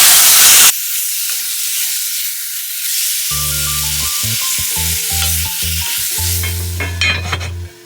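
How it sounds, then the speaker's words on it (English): Jamaican curry chicken browns in a covered pot, starting with a loud burst of sizzle that settles into steady frying, then a run of humming tones over the hiss. "This is kind of sort of like browning the chicken"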